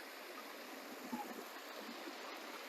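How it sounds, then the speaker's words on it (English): Lake water cascading down a small stepped waterfall in landscaped gardens, a steady broadband rush and babble, continuous and moderately near, with no voices. "The water from the lake cascades down the steps"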